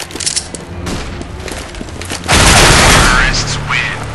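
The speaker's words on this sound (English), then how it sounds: "Flashbang!" A flashbang grenade detonates in the game CS:GO: after scattered crackling gunfire, a sudden loud blast erupts midway and holds as a dense, roaring wash before easing, with a voice sounding near the end.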